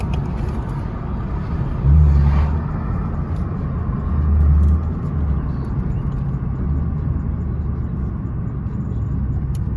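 A 2014 Ford Mustang with a Roush axleback exhaust rumbling through a tunnel, deep exhaust drone with two brief swells as it downshifts, loud and close with no talking.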